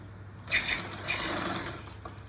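A sewing machine stitches fabric in one steady, close whirring run of about a second and a half, with a quiet hum before and after.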